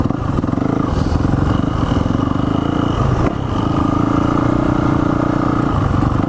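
A Yamaha motorcycle ridden uphill by a child, its engine droning loud and close at steady revs with a brief dip midway before pulling on again.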